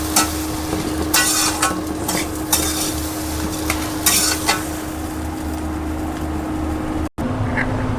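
Spiced potato filling stirred in a pan, with repeated bursts of scraping and clatter from a utensil over a steady low hum, close and fairly loud, with a brief dropout near the end.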